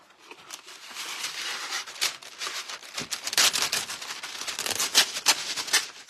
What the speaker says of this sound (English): I'm going to use some parchment paper.